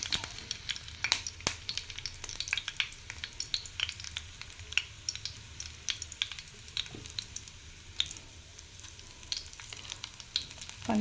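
Ginger garlic paste fries in a tempering of cumin, urad dal and curry leaves, making a soft, steady sizzle scattered with small crisp crackles, fairly quiet and close, with no speech.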